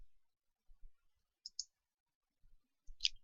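A computer mouse clicks on a next-page button, a few quick, quiet, sharp clicks in a pair and then a single one, set against near silence.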